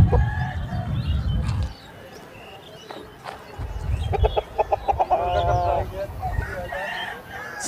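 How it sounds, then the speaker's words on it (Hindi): Aseel roosters clucking and crowing nearby at a rooster market in Balrampur, West Bengal, with a rapid burst of clucks in the middle, over outdoor background noise and faint voices. "बहुत सारा मुर्गा यहाँ पर है"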